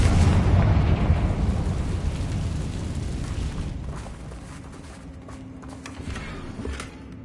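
A Confringo fire spell explodes in Hogwarts Legacy, opening with a loud, heavy rumbling blast that slowly fades into a low, dwindling roar with faint crackles.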